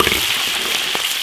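Spices and seasonings, including ginger, chili paste and hotpot base, sizzle loudly in hot oil in a large iron wok over a wood fire, a dense continuous crackle with faint stirring scrapes, close and alone.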